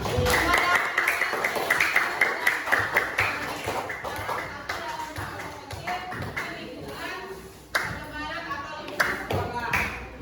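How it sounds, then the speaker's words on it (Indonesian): A classroom of students claps together in a long burst of hand applause, dense and lively, with a few brighter slaps standing out and voices mixing in underneath. "tepuk tangan untuk kita semua"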